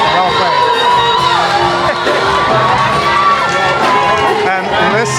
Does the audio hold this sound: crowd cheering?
yes